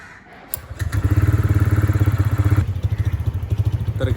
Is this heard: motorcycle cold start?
yes